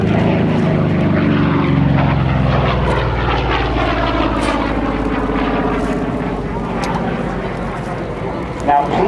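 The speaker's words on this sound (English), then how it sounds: "Let's listen to the bent wing bird." An F4U Corsair's radial engine runs at an open house air show, a loud, steady propeller drone with a rough, pulsing throb that holds throughout and eases slightly toward the end.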